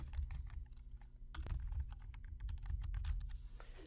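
Someone types a lecture title on a computer keyboard, with quick close key clicks in irregular bursts and one sharper tap near the middle, and no voice.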